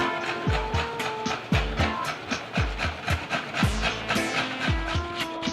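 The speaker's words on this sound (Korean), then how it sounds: "이 톱질을 멈출 수가 없네요" Steady back-and-forth rasping of a hand saw cutting a wooden board into an eyeglass frame shape, strokes repeating in a regular rhythm, close and fairly loud with no talking.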